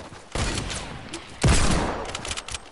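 Sniper video game gunfire: two loud, close bursts of shots, one starting early and a heavier one about a second later, each trailing off into rattling echoes, with further scattered pops toward the end.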